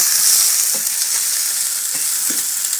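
Onions, garlic and shallot sizzle in a hot pan, a steady bright frying hiss with occasional soft taps of stirring, close and loud with no talking.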